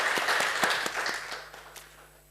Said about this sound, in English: A big round of applause for Martin Dugiamas